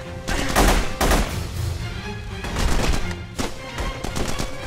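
Gunfire in the video game The Punisher, loud bursts of shots in quick clusters over a dense, noisy action backdrop.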